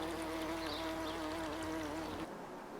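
Bees buzz steadily and softly in a garden meadow of meadowsweet and clover near a pond, a continuous close hum that cuts off near the end.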